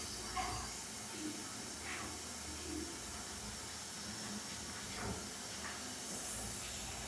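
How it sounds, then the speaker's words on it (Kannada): A pressure cooker on the stove in a home kitchen lets off steam in a steady, fairly quiet hiss that continues evenly for the whole stretch, with no talking over it. "ಕುಕ್ಕರ್ ಇಟ್ಟಂಗೆ. ಕುಕ್ಕರ್ ಐತಿ."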